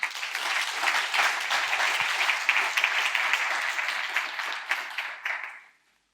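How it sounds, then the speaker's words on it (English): Audience applause for a speaker at an educator's day session at SPIEL Essen 2023, steady dense clapping filling the room for several seconds before ending abruptly. "Please applause for Jan David Freund."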